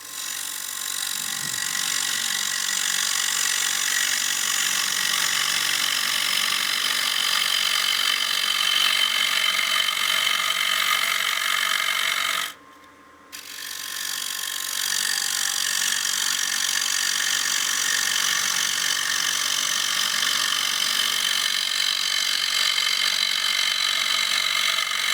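A wood lathe spins a bowl blank while Easy Wood Tools cut the inside, a loud continuous scraping hiss over a low motor hum, broken once by a brief pause midway before cutting resumes.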